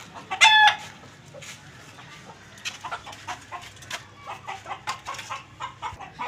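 Desi hens clucking in a close, busy chorus inside a cage, with short bursts of squawks and one sharp cry early on, no talking.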